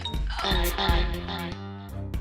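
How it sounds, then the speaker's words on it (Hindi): A bright, chiming phone ringtone sounding nearby, with a few quick repeated tones before fading. "घंटी बज गई"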